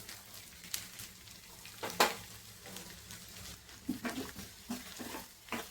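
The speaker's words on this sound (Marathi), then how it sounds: "लसूणचा कच्चा वास निघेपर्यंत आपण छान फ्राय करून घेऊया" Finely chopped garlic and ginger fry in hot oil for Schezwan chutney, a quiet, low sizzle broken by scattered clicks and occasional stirring scrapes.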